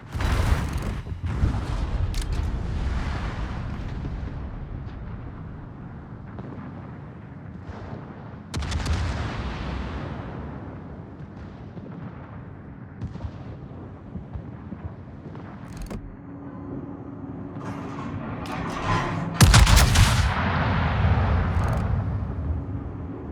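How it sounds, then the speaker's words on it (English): Naval artillery salvos from warships in World of Warships during a base defense operation around Naval Station Newport, with the battleship Ohio: repeated heavy booms and rumbling blasts, one especially loud near 19 seconds, over continuous battle noise. "Concentrate fire on the enemy warship."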